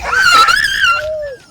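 A puppy gives a high, wavering whine followed by a short, thinner whimper, close and loud.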